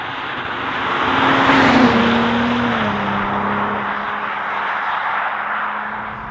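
A BMW M340i Touring LCI estate on the move, its engine droning steadily with a pitch that rises then eases into a smooth cruise, loud and continuous with road and wind noise.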